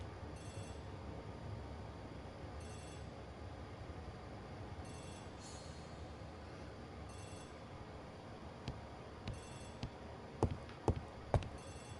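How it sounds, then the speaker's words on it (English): A telephone rings in a hall in the Agatha Christie The ABC Murders video game: faint, evenly spaced bursts of bell ringing over a low hum, followed by a few sharp clicks near the end. "The telephone in the hall is ringing."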